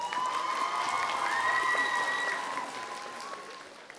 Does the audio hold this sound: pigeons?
no